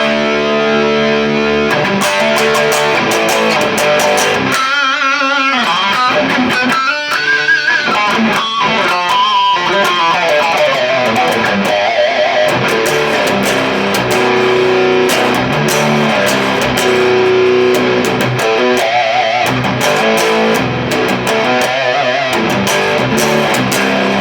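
An electric guitar on its bridge pickup runs through a Joyo JF-303 Little Blaster distortion pedal, playing loud, driven crunchy chords and riffs with sustained notes and choppy bursts throughout, no talking.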